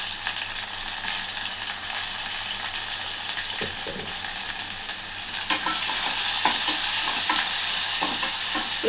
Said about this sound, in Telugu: ఇది కొంచెం మంచిగా పచ్చివాసన అయ్యేటట్టు వేయించాలి.